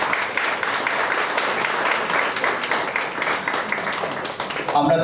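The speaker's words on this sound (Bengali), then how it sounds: "সবাই মিলে একটু হাততালি।" An award-ceremony audience at a Durga Puja honours event applauds, a dense, sustained wash of many hands clapping for several seconds before it thins out at the end.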